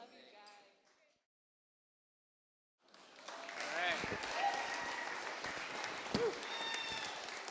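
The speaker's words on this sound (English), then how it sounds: "Let's give that a round of applause for Chandler." Wedding guests break into applause at the reception speeches: after a short voice and a pause, clapping rises to a steady moderate roar with occasional cheers and whoops for several seconds.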